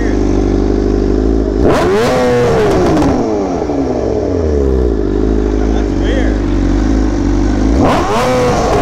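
A BMW M1000RR sport motorcycle running on E85 fuel revs hard toward redline, its loud engine note climbing and falling in two sharp bursts before settling back to idle, heard up close with people talking over it.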